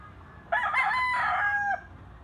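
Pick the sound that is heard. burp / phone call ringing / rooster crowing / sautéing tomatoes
rooster crowing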